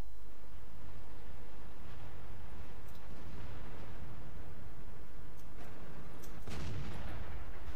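Distant tank cannon fire in a World of Tanks clan battle, with a couple of muffled booming shots and cracks rising over a steady rumbling battlefield background.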